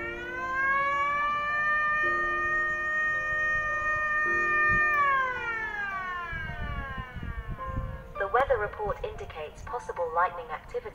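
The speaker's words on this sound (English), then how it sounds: "and lightning warn alarm" A loud, steady lightning warning siren wail holds for several seconds, its pitch dropping partway through, then a choppy electronic warble takes over.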